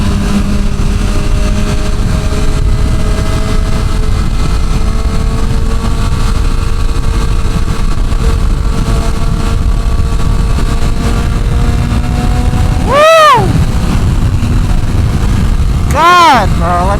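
The loud, steady roar of a 2024 BMW M1000RR motorcycle engine on the move, with two quick rising shift sweeps near the end and a rider's voice under the engine noise.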